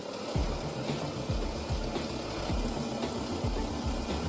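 A plastic bottle shredding machine runs with bottle pieces churning in soapy water, giving a steady mechanical drone with rhythmic thumps roughly every half second.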